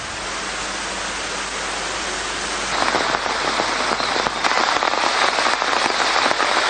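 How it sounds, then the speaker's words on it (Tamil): Heavy, continuous rain pours down in the Kilinochchi area of Sri Lanka, where the roads are flooded. The dense hiss grows louder and denser partway through, with no voices over it. "கிளிநொச்சி பகுதியில் தொடரும் மழையினால் பிரதேசத்தின் பல்வேறு பகுதிகளில் உள்ள வீதிகள் நீரில் மூழ்கியுள்ளன"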